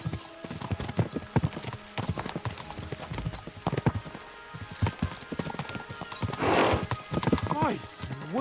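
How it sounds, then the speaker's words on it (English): Horses gallop in the medieval video game Kingdom Come: Deliverance II, rapid hoof clip-clops pounding under male dialogue, with a horse whinnying near the end. "We should spur the horses on."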